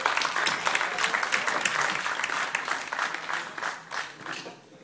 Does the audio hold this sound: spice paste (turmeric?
no